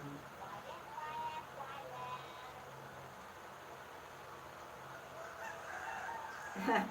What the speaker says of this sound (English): You can hear some chickens crowding.